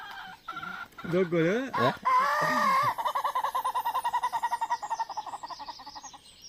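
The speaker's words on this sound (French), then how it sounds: "Le Ketawa alias le coq qui rigole." A Ketawa rooster, the so-called laughing rooster, calls up close with rising and falling crow-like notes, then breaks into a long rapid run of rhythmic cackling pulses that slowly fades; someone says a few words briefly.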